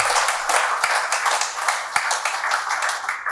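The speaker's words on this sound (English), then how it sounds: "can we please give them all a massive round of applause?" A speech-contest audience applauds the speakers, with dense steady clapping throughout and a few sharper claps standing out near the start and middle.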